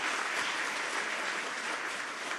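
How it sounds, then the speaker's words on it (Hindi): Audience applause filling a hall at a summit in India, continuous dense clapping from many people holding an even level throughout. "अगर इसको हम अपने तालियों से प्रकट करें तो मुझे लगता है कि ये पूरा हाल गूंजना चाहिए उससे।"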